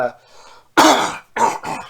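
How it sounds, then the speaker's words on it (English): A person clears their throat several times in quick, rough bursts, close and fairly loud, with short pauses between. "Clear my throat"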